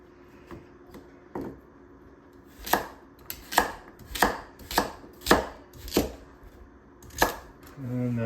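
Knife slicing carrots and parsnips into medallions on a cutting board, a run of about eight crisp, evenly spaced chops close by, with a few lighter cuts before them.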